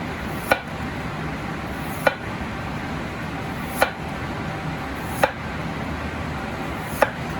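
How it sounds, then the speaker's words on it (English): Knife slicing a potato into thin slices for arros al forn, five sharp, separate cuts against a board spaced a second or more apart, close and distinct over a quiet kitchen background. "We're going to cut the potato thin slices."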